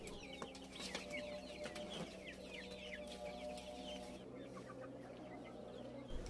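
Chickens on a rooftop farm cluck busily while being fed outdoors; soft, somewhat distant chatter of overlapping clucks and short calls continues throughout.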